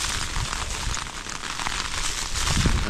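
Steady rain drums on a tent at a campsite in a continuous dense patter, close and fairly loud, with no voices.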